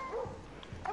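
A dog in the video game Far Cry New Dawn lets out a brief, soft whimpering yip, faint and close, heard alone in a single short moment.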